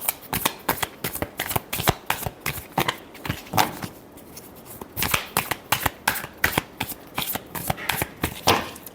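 Tarot cards being shuffled by hand produce rapid, close riffling bursts in quick repeated rhythm, with a brief pause near the middle before the shuffling resumes.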